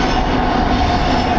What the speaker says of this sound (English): Oh yeah, there's the train.